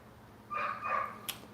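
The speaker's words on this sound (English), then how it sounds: "there's a dog in the background, so what?" Two quick dog barks ring out in the background of a live cooking session of key lime pie and spicy ribs, followed by a brief sharp click, with no talk over them.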